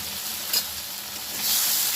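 Ground cumin, coriander and turmeric fry with tomato paste in a hot pan for a vegetarian spinach dish, a steady close sizzle that grows louder near the end.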